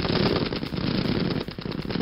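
Sustained automatic gunfire from the Russia-Ukraine war, a loud, dense rattle of rapid shots that continues almost without pause, close and harsh.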